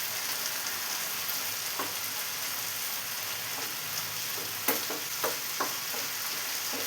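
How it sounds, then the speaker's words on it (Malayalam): Tomato masala with ginger garlic paste sautéing in a pan for paneer butter masala, a continuous dense sizzle with a few sharp clicks of a spatula scraping and stirring, no talk. "ഇനി ഇതെല്ലാം കൂടെ ഒന്ന് വഴറ്റിയെടുക്കാം."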